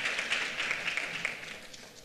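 A live audience at a corporate CFO celebration event claps for a team member, a steady scattered patter of hands lasting a couple of seconds at moderate volume with no talking over it.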